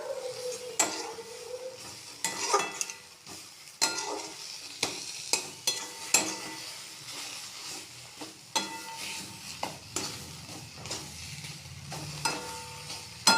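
Thick cabbage paste is stirred and dry-fried in a pan, a spatula scraping and knocking the metal in repeated close strokes over a faint background sizzle, with no talking.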